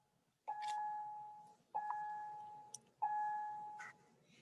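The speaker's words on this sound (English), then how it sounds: "like school just started, so that's the bells for everything" School bells ring out in three separate electronic chimes, each a steady held tone that starts abruptly and fades, moderately faint in a quiet room with no talking.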